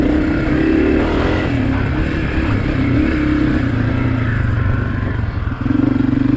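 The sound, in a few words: 2023 Honda CRF250F dirt bike engine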